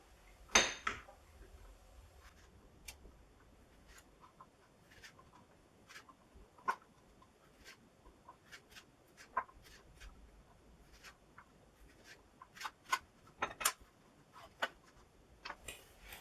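A knife cuts chorizo into half-moon pieces on a board. The clicks and taps against the surface are light, irregular and close, with quiet pauses between cuts.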